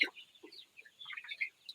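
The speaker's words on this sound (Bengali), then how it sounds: "অনেক মুরগি" Faint clucking and peeping from chickens sick with bloody dysentery, a scattered run of short, soft calls close together.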